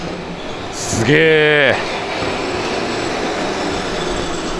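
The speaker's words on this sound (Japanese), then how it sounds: "ここにどんどん路面電車がやってきます。" A Hiroshima Electric Railway streetcar pulls into a street-level stop at Koami-machi, giving a short burst of squealing wheels and rolling rail noise over steady traffic hum, while a voice briefly reacts.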